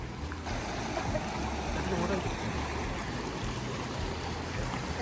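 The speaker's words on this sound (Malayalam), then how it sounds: "ഇവിടെ ഇങ്ങനെ പുഴ പോലെ ഒഴുകി വരുന്നുണ്ട് ഡാമിലെ വെള്ളം" Dam water rushes like a river along a forested road near Ooty, a steady broadband roar that fills the scene continuously, close and fairly loud with no pauses.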